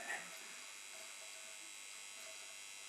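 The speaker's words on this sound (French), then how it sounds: "le transformateur de courant." A faint, steady electrical hum from a power transformer drones on without a break and with no voices.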